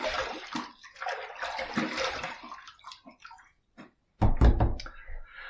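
Water runs while a razor with a Fatip Dorato Grande closed comb is rinsed, a steady splashing flow for several seconds. After a brief pause, a louder burst of water and a knock against the basin follow.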